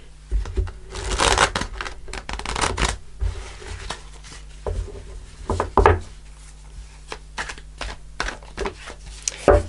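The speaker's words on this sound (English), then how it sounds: "Let's just shuffle again." Tarot cards shuffled by hand, a run of soft papery riffles and rubbing bursts with brief pauses between them, close and fairly quiet with no talking.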